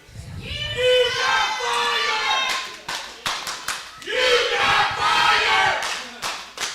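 A wrestling event crowd roars and claps in two big swells, loud and close, with shouting voices and scattered applause between the waves of noise.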